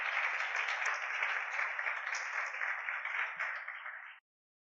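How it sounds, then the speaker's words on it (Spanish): A church congregation claps together in a dense, even burst for about four seconds, moderately distant and fairly quiet, then stops abruptly. "Aplauda al Rey."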